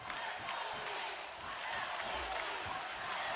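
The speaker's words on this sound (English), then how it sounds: "Sold out crowd in the pyramid, making some noise for both sides." A sold-out crowd fills the Pyramid at a men's college volleyball match, keeping up a steady, distant roar of cheering and noise throughout.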